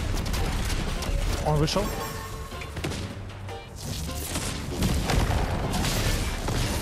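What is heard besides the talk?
house being blown up with explosives in a video game (Fortnite)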